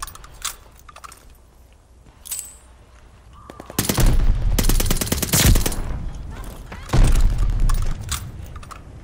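Bursts of automatic gunfire in the video game Call of Duty: Vanguard, with scattered single shots at first, then long loud sustained volleys and a second heavy burst near the end.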